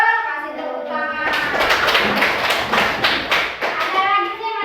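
A group of children in a classroom bursts into loud, rapid applause that lasts a few seconds, with young voices speaking before and after it.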